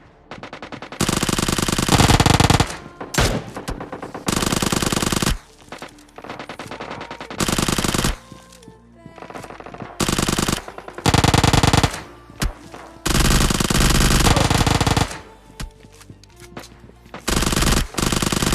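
UZI gunfire in PUBG Mobile Lite plays as repeated loud automatic bursts of rapid shots, each lasting one to two seconds, separated by short quieter gaps, with no speech.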